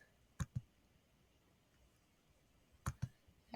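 Computer mouse clicks, two quick pairs of close, crisp clicks spaced a couple of seconds apart in a quiet room.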